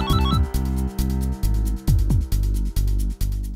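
A phone rings from another room in a home, a repeating electronic ringtone melody playing loud and steady for several seconds with no one speaking.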